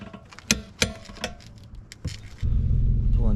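An Audi S4 gives a few sharp mechanical clicks and knocks at close range, followed by a low, steady engine rumble that starts abruptly and continues to the end.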